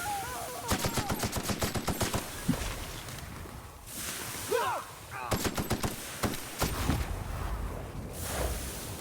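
Automatic gunfire in the Outer Worlds video game, fired in two clusters of rapid bursts separated by a quieter gap with faint rustling and footsteps, fairly soft in the mix.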